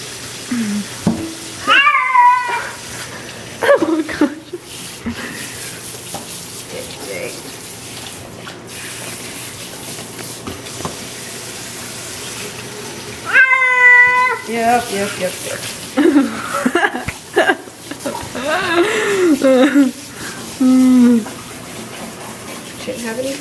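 A pet cat meows repeatedly in loud, drawn-out cries while being bathed with running water, with a person talking over and between the calls.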